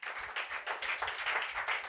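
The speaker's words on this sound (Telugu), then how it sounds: "గట్టిగా చప్పట్లు కొట్టండి ఒకసారి" A church congregation claps loudly in a quick, rhythmic burst of applause lasting a couple of seconds, with no voices over it.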